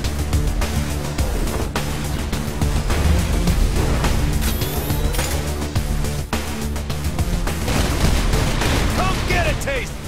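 Heavy automatic turret fire from the White House turret weapon in the video game Saints Row IV, a dense continuous barrage of shots and explosions over game music with a voice talking throughout.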